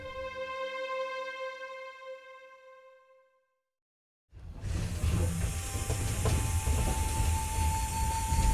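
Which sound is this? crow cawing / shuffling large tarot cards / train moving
train moving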